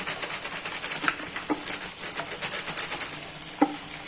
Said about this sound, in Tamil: சப்பாத்தியும் சேர்த்துட்டு இதை நல்லா வதக்கி விட்டுக்கோங்க.